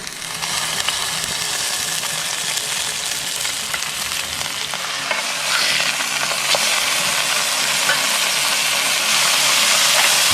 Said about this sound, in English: Cooking lunch.